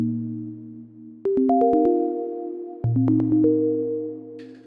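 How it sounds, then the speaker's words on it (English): Polyphonic FM operator notes from a modular synth sequencer step through plucked, bell-like tones over a sustained low drone, in two quick bursts of rising notes with short pauses between. "And this is sequencing the FM operator, again, polyphonically, so it will sound like this."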